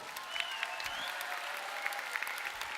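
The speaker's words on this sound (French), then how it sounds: "On applaudit très fort le duo Marie Faggiano et Rachida Djelou" An audience at an afternoon ceremony applauds a performing duo, a dense, steady patter of many hands with a few sharper claps and a faint thin whistle-like tone riding above.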